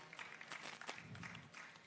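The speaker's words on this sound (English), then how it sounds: "No, that applause is too weak." Thin, faint applause from a conference audience greeting entrepreneurs, a brief patter of scattered claps lasting under two seconds, distant and quiet.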